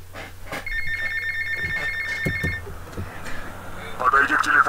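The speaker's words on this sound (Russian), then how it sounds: "Подойди к телефону в Vice Point." A telephone rings in Vice City, a regular electronic trill repeating for about two seconds over steady game ambience and engine hum, then a brighter burst of sound near the end.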